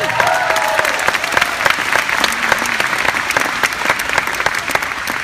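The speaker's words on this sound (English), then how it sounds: "Give your dream a round of applause right now." A large audience at a motivational speaking event breaks into loud, sustained applause, dense rapid clapping filling the room for several seconds with a few faint whoops, and no speech over it.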